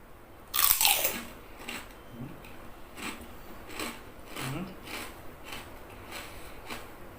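Crispy Thai pork rinds (khaep mu) give one loud, sharp crunching bite up close, followed by a run of softer, rhythmic crunchy chews.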